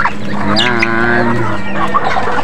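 Native chickens and ducks on a small farm, with loud, close clucking and squawking that fills the short stretch of audio against steady background noise.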